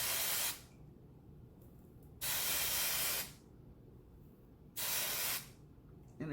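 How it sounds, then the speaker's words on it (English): Root Touch Up hair spray hisses onto a thinning scalp in three separate bursts, each lasting about a second, close and loud, with quiet pauses between them. "This is Root Touch Up, and I get in there and I spray the scalp area"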